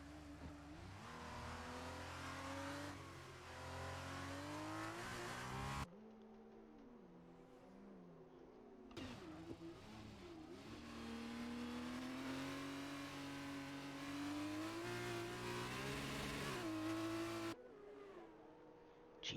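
A Formula 2 race car in a video game at Silverstone, its engine revving hard and climbing through the gears, loud and continuous with brief cuts between shifts.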